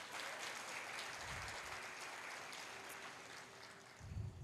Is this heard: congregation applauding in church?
yes